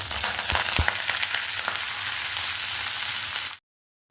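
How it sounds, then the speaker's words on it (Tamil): Chopped adder's creeper (pirandai) sizzles loudly in hot sesame oil in a pan, a close steady crackling frying sound with a few sharp pops before it cuts off abruptly. "எண்ணெய் நல்லா சூடானதும் நம்ம நறுக்கி வச்சுருக்கிற பிரண்டையை எடுத்து அதில் போட்டுக்கலாம்."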